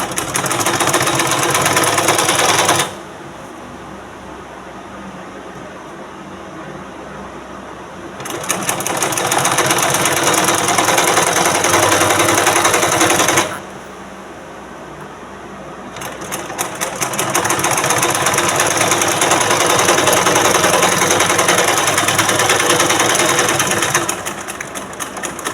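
Sewing machine stitching a blouse hem, a loud, steady mechanical whir in long runs broken by two short pauses, close up and alone with no voices.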